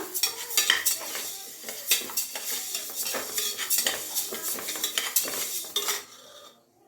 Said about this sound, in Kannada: ಚೆನ್ನಾಗಿ ಹುರಿತಿದ್ದೀನಿ ಹೆಸರುಬೇಳೆನ.